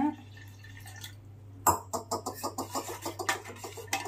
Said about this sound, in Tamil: சும்மா கொஞ்சமாக தண்ணி ஊற்றி அதுக்கப்புறம் தேவையான அளவு தண்ணி ஊற்றிக்கோங்க.